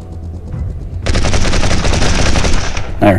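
Sustained rapid gunfire in the Sniper 3D Assassin mobile shooting game, a dense loud burst of shots running for about two seconds after a short lead-in, ending in a brief metallic clatter.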